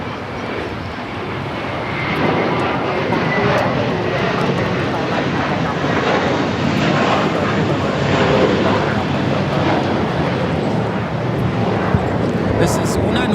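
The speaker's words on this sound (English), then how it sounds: "This is Una Nueva Mentalidad taking off to Boston on the A321 JetBlue Airways Flight 188" JetBlue Airways Airbus A321 on its takeoff roll at Los Angeles International, bound for Boston, a loud, steady jet roar filling the whole stretch and building slightly after the first two seconds, with talk faintly mixed in.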